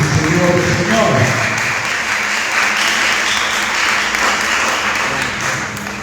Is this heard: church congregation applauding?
yes